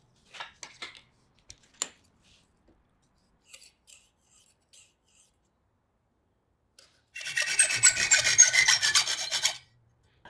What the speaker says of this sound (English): I'll just file in a couple of details in the transition from the round section to the straight